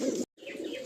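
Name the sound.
pigeons cooing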